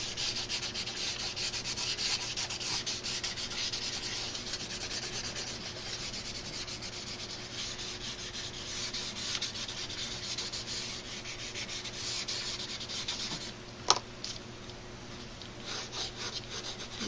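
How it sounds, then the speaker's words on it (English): Pencil shading on a drawing of a face is blended on paper, making a close, soft, steady rubbing with a sharp tap near the end, and no talking. "And I'm going to blend just a little bit."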